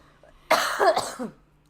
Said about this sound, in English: I have a slight cough in case you can't tell.